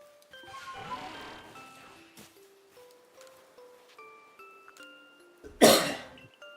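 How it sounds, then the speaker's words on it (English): A single sharp, close cough bursts out near the end of the passage, loud against quiet background tones and faint sounds from a Pokémon Legends: Arceus game. "my cough probably came on camera"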